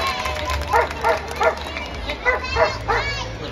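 A trained protection dog at a pet expo barks in a run of about eight sharp, fairly close barks at an even pace, while people talk in the background.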